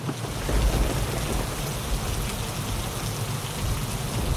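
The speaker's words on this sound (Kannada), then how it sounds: "ಮತ್ತೆ ಜೋರಾಗಿ ಮಳೆ ಬೀಳಕ್ಕೆ ಶುರುವಾಗಿದೆ" Heavy rain pounds down in a steady, dense roar near Amboli's Kavalshet Point, close and loud throughout with a low rumbling undertone.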